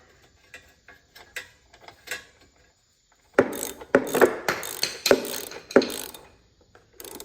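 A hand ratchet tightens a freshly gapped spark plug back into a push mower engine, a series of sharp, close ratcheting clicks following some lighter handling noises.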